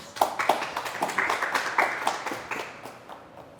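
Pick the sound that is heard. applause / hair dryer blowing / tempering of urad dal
applause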